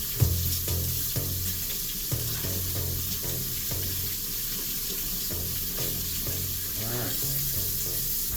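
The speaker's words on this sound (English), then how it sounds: "But you gotta rinse it with the cold water." Cold tap water runs steadily over Nongshim topokki rice cakes in a sink, a continuous close hiss and splash with small rattling knocks as the cakes shift, no talking.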